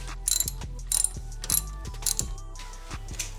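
Hand ratchet clicking in a steady series of sharp, close, fairly loud clicks as it backs a single Torx bolt out of a car's idle air control valve, heard alone without talk.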